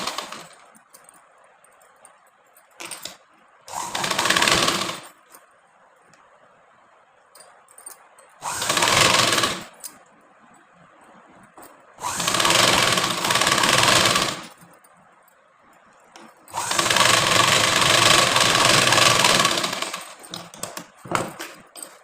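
A sewing machine stitches the side seams of a blouse in several separate runs of steady whirring, some short and some lasting a few seconds, with quiet pauses between them.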